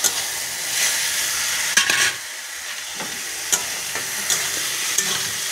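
Mixed vegetable curry is stirred in a hot pan, producing a constant sizzle broken by several distinct scraping strokes of a spoon against the metal, close and fairly loud.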